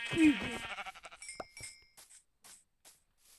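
A single bleat from a game sheep rings out, followed by a few soft clicks and faint clinks fading into quiet.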